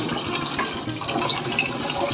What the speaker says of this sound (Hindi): ये हमारा आरओ का पानी है जिससे चावल बनता है।